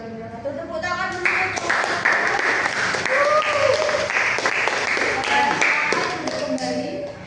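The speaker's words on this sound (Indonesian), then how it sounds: "Tepuk tangan dulu." Classmates clap in a classroom after a group presentation: a dense burst of hand claps swelling and holding, with voices and cheers mixed through it.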